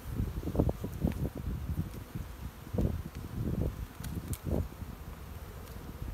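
Honey bees buzz around an open hive at an apiary on a spring day, a faint, close humming with soft rustling bursts and no talk.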